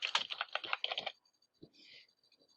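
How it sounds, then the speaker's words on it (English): A brief burst of fast computer keyboard typing, close and crisp for about a second, then quiet with a few faint clicks and a soft rustle. "So in this big field here, we want to type in all the content."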